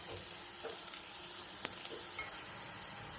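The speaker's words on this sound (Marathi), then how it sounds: "कांदा चांगला परतलाय" Chopped onion sautéing in a pan for a Maharashtrian chicken rassa sukka, a soft, quiet sizzle with faint crackles and an occasional light pop, heard alone.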